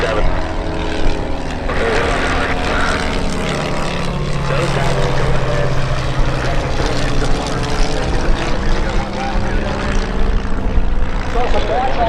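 Homebuilt propeller aircraft touching down at EAA AirVenture Oshkosh, a loud continuous engine drone with shifting prop tones, mixed with busy crowd and announcer chatter.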